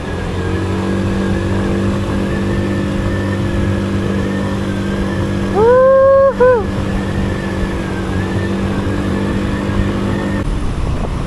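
Motorcycles and scooters, including big bikes and Vespas, pass on a road near a roadside café in Subic, a loud continuous engine drone with one sharp rising and falling rev about midway.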